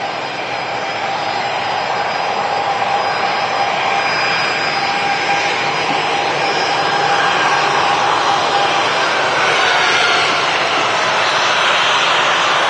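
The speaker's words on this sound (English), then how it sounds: "EasyJet off to Enfida. A320." An easyJet Airbus A320 departing Manchester Airport for Enfida produces a loud, sustained jet engine roar that holds steady and swells slightly toward the end.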